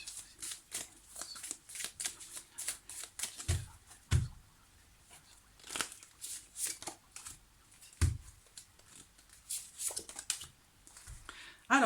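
Tarot cards are shuffled repeatedly by hand, close and crisp, in rhythmic riffling bursts with brief pauses, with speech occasionally in the background.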